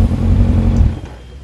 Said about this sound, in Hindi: चलिए एक बार आवाज सुन लेते हैं इस बाइक की।